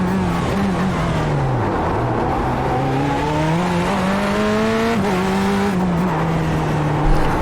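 Corvette C8.R race car engine in iRacing at Long Beach, loud and continuous, revving up through the gears with rising pitch then easing off, alone with no voices.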